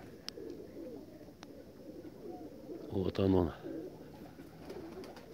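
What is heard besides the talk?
pigeon flying and cooing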